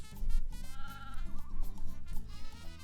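Sheep in the Croc: Legend of the Gobbos video game on Sega Saturn bleat a few times, a wavering cry riding over steady looping game music with a strong bass line, no talk.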